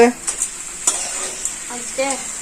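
Cabbage curry cooks in a pan with a spoon stirring it, giving soft scraping strokes over a faint sizzle and a few light clinks of utensils.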